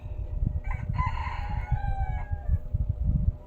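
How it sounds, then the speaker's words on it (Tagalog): A single rooster gives a long, clear crow fairly close by, over a low rumbling background with faint thumps. "Oo anak, magtuktugaok manok anak"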